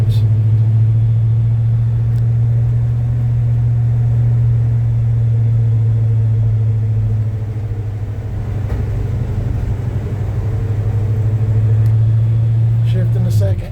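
1966 Chevy C10 truck driving, a steady low engine drone and road rumble that holds evenly throughout, with someone talking over it.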